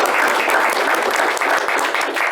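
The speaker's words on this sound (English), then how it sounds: "So I would love to give you guys a round of applause." Applause at a board meeting, with many hands clapping in a loud, continuous round close by.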